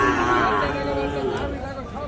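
Gir and Sahiwal bull calves and cattle low in drawn-out moos, fairly close, over a steady murmur of voices and market bustle at Raniganj livestock market.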